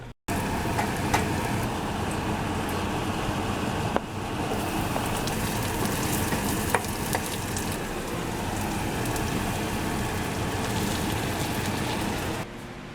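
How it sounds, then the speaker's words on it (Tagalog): Squid sautés in garlic and onion in a pan, giving a loud, dense, steady sizzle that runs unbroken for the whole stretch with only faint scattered clicks. "Gigisa ko lang yan sa bawang sibuyas."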